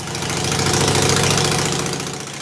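S&S carbureted motorcycle engine with drag-pipe exhaust, now free of misfire but with a mid-range dip, runs steadily and loudly for a couple of seconds, its rough, throbbing exhaust note swelling slightly and then easing, with no talking.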